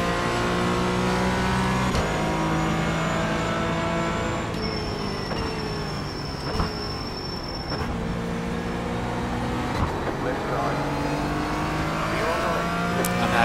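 A Porsche Cayman GT4 engine drones and revs through gear changes on the Okayama circuit in a racing video game, a continuous close-up roar rising and dropping in pitch, with a brief tire squeal partway through.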